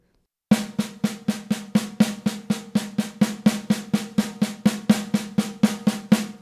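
Evenly spaced drum strokes at one steady volume, a continuous fast six-stroke roll of crisp, identical hits with no accents, played alone after a moment of silence.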